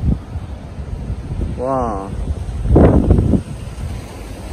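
Strong wind blowing at a seaside resort in Sharm el Sheikh, Egypt, buffeting the microphone in a steady roar with gusty swells, while a person briefly exclaims and talks over it.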